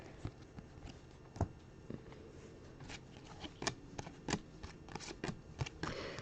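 Panini baseball cards shuffled and handled during a live pack break, with a steady run of soft papery flicks and sharper snaps, close and fairly quiet, with no talking.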